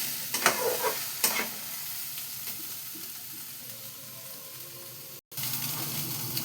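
Fish fritters and whole red lentils frying together in a pan, a steady sizzle with sharp spatula clinks and scraping stirs near the start, close and without speech, briefly cutting out near the end.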